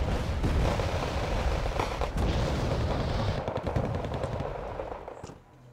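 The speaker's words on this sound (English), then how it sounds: "Supporting fire of the M109s, A2s, are going to be shooting at where we think is the command." M109 A2 self-propelled artillery and other weapons firing in the strategy game WarGame Red Dragon, a dense, loud, continuous barrage of booms and rapid reports that thins out toward the end.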